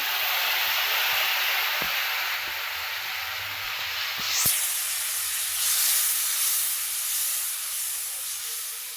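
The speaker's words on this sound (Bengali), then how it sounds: "একটু জল দিয়ে দেবো" Water poured into a hot cooking pan bursts into a loud, broad hiss of steam, steady and close, with a few small knocks and a brief sharper flare midway before the hiss continues evenly to the end.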